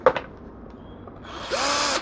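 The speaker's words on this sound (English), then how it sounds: "drilling a hole that's the size of the spout in the bottom of the bait bucket using a step drill" A step drill bores a hole through the bottom of a plastic bait bucket, sized to fit a spout; a short whir at the start gives way to a steady, loud grinding of the bit cutting plastic near the end.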